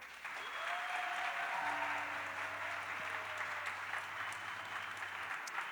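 An audience at a song event in Turin gives a steady burst of applause with some cheering for a song, sustained evenly throughout at moderate distance.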